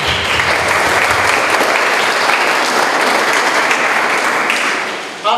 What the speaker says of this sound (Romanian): Zic ca să-i aplaudăm din toată inima.